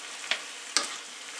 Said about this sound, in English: I'm just going to stir this all up.